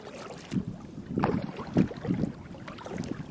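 Paddle strokes dipping into a lake from a small boat, a few soft rhythmic splashes and swishes about half a second apart, close by, over light wind noise on the microphone.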